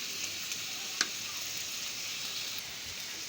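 Ground spices such as turmeric, chilli and cumin powder sizzle in hot oil, a steady close hiss dotted with a few small pops.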